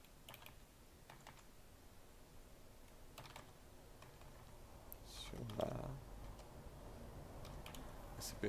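Quiet clicking of keys on a computer keyboard as a stored procedure name is typed in during an SQL lesson, scattered light taps with short bursts, close and soft against a faint room background.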